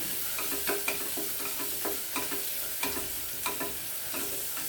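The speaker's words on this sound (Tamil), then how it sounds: "இதை ஒரு நிமிஷம் வதக்கிட்டு இஞ்சி, பூண்டு ரெண்டும் இதில் பொடியாக துருவி வச்சுருக்கேன்." Grated ginger and garlic sautéing in ghee for spinach (palak) biryani, a steady bright sizzle broken by repeated spoon scrapes and taps against the pan, with no talk.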